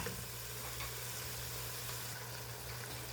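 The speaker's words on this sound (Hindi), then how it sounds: "अब हम इसके अंदर अपना पाया डालेंगे।" Beef trotters (paya) go into onion masala frying in a pot, producing a quiet, steady, even sizzle with a faint low hum underneath and no talking.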